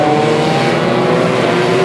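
Banger racing cars run on an oval track, their engines making a constant, dense roar throughout the short stretch.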